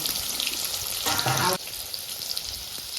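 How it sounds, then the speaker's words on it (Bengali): New potatoes frying in oil in a pan, a continuous sizzle that flares louder for a moment in the middle before settling back to a steady fry. "ভালো করে ভাজবো লাল লাল করে এটা নতুন আলু"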